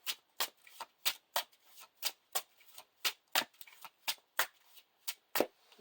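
Playing cards for a Lord of the Rings card game are shuffled by hand, heard as about twenty crisp riffling snaps in a fast, steady rhythm. The sound is close and clear, with no talking.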